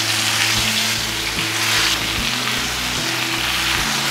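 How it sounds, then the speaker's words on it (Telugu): Fish pieces sizzling and frying in hot oil in a pan for a fish dum biryani, a loud, steady, close crackling hiss that continues without pause and with no voice over it. "చేపలు వేసేస్తున్నాను."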